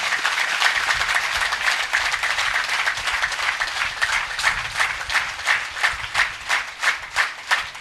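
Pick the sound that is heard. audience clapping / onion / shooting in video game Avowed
audience clapping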